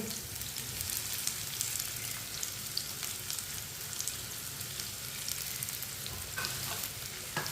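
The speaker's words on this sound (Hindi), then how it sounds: "कटे हुए टिंडे डाल लेंगे।" Chopped tinda (apple gourd) frying together with onions in a pan, a steady dense sizzle and crackle that runs unbroken throughout with no talking.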